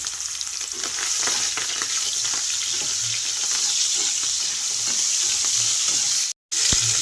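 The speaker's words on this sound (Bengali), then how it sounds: "চিংড়ি মাছগুলো ভাজা হয়ে গেছে" Shrimp rubbed with salt and turmeric fry in hot oil in a wok, giving a steady, close sizzle with crackles and occasional stirring clatter, broken by a brief silence near the end, with no talk.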